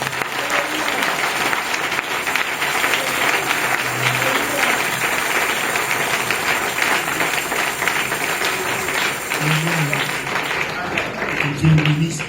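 A church congregation applauding and cheering, a dense, steady wash of many hands clapping that carries on for several seconds, with scattered voices calling out within it.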